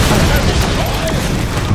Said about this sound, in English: Mortar's coming in again.